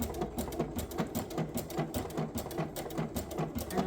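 A sewing machine stitches through Lutradur at a slow, steady pace, its needle clattering in a fast, even rhythm, close and moderately loud with no talk.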